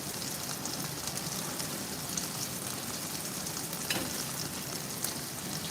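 Vegetables stir-fry with pork curry paste in a pan, giving a continuous, fairly soft hiss and crackle, like light rain, with no talking.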